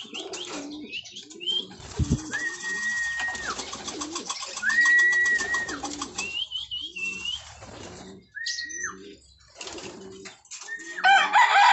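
Several pigeons call close by with soft coos, chirps and squeaky whistled notes, punctuated by wing flaps, clustered in bursts with short quiet gaps between.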